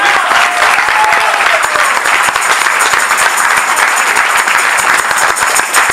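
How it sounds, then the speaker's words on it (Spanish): Congregation clapping hard during a lively church service, a dense continuous burst of applause filling the room throughout, loud and close, with a faint voice briefly audible at the start. "Dale fuerte palmas al Rey"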